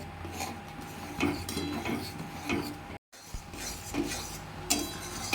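Chhena mixed with milk powder is stirred in a pan for pineapple sandesh, giving repeated scraping and rubbing strokes with light clinks of utensil on the pan, close and moderately loud.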